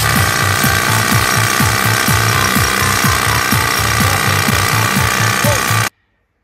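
A pneumatic drill sound effect, a loud, rapid, rhythmic hammering over a dense mechanical roar, runs for about six seconds and then cuts off abruptly into silence.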